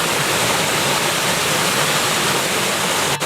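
Waterfall splashing over the side of a rock at the edge of a beach, a steady, loud broadband roar of falling water holding constant throughout.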